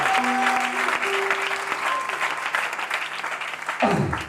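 A church congregation claps steadily at a Sunday service, sustained applause filling the room with sung or spoken voices over it, then a brief swell of sound near the end.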